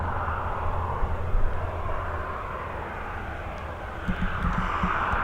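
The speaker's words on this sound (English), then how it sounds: "Right, she's taxiing now." An aircraft taxis at Dublin Airport, giving a low, steady engine rumble with broadband hiss. It is moderately distant and continuous, with slight swells and no clear speech.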